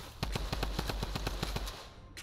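Rapid automatic gunfire in Fortnite, a fast even burst of about a dozen close, punchy shots followed by a short tail, loud and uninterrupted by talk.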